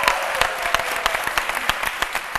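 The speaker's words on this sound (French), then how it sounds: "je pense qu'on peut l'applaudir" An audience breaks into applause, a lively mix of many claps with distinct sharper hand strikes standing out in an irregular rhythm over the steady clapping wash.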